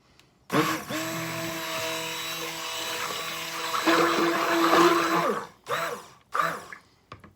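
A power mixer or stick blender whirs steadily in a bucket of soap batter for about five seconds, rising slightly in pitch, then stops and gives two more short bursts.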